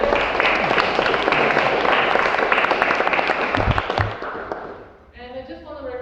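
An audience claps for course coordinator Alfa at a speechcraft course, a dense, loud burst of many hands that runs for several seconds, then fades out as a voice starts.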